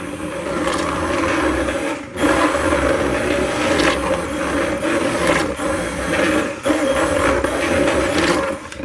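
A stick blender runs steadily while mixing a batch of homemade liquid dish soap, a continuous loud motorized whir with a couple of brief dips where the blade pauses or shifts in the mix.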